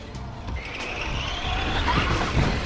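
Several RC cars race and jump on a dirt track, their small electric motors whining and revving steadily with a rising pitch, tires scrabbling and skidding throughout, close and continuous.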